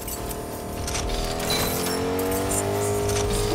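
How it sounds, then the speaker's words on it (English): A car drives in the video game Fortnite, its engine a steady droning hum whose tones slowly climb in pitch, with faint clinking game effects on top and no clear speech. "This car is like the slowest car ever."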